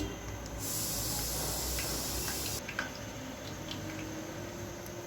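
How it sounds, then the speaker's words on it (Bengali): Kalojam sweets frying in warm oil, a steady close sizzling hiss that swells loudly for a couple of seconds then settles into a softer bubbling crackle. "এখন আমি একে একে সব মিষ্টিগুলো দিয়ে দিচ্ছি হচ্ছে হালকা হালকা করে আমি ভেজে নিচ্ছি"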